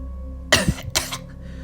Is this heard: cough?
yes